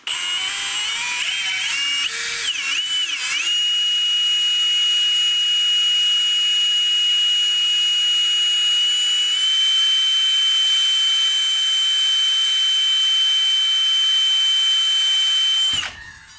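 Aluminum wire being straightened gives off a sustained, piercing high-pitched ting. The tone wavers briefly at the start, then holds steady and loud for over ten seconds before cutting off abruptly.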